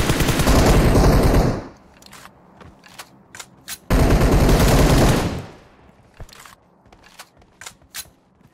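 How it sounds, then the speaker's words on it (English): Gunfire in a video game: two long, loud, dense bursts of rapid automatic shots, each lasting a second or two, separated and followed by scattered single sharp cracks and clicks, with no talk. "Oh, I heard suppressed shots."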